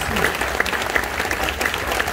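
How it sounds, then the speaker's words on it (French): A church congregation applauds loudly for Jesus during a sermon on the Book of Matthew, a dense, steady wash of many hands clapping close by that continues unbroken throughout. "Acclame très fort pour Jésus."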